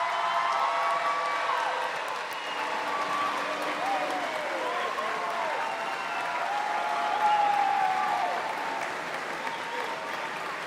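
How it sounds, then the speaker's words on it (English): Crowd at a career and technical education center's commencement and completer ceremony claps steadily for graduates, a sustained round of applause with scattered cheers and whoops, while a voice carries on over it. "Let's give a truly heartfelt round of applause to our graduates and CTE completers for their incredible"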